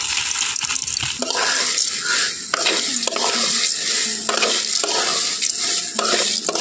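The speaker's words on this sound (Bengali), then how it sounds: "শুকনো কড়াইতে আমি এই বীজগুলো দিয়ে দিয়েছি" Washed, still-wet sunflower seeds are stirred in a dry wok without oil, giving repeated scraping, rattling sweeps with a wet hiss beneath. The strokes are close and come at a steady rhythm, several per second.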